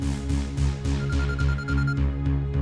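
A phone rings with a repeating electronic ringtone in regular bursts, loud and close, with no talking over it.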